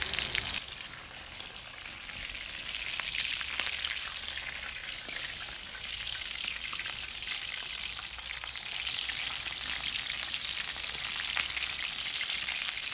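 Cutlets sizzle in hot oil in a very hot frying pan, a steady, dense crackle and spatter that carries on loud and close without pause.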